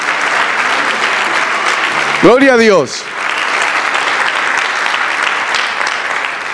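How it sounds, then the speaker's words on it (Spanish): A church congregation claps in steady, sustained applause throughout, with a man briefly calling out in Spanish over the clapping. "Vamos a darle un aplauso al Señor"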